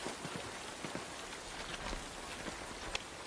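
Soft, steady rain patters on a surface in an old 1960 film scene, a faint, even hiss with scattered drops and no other sound standing out.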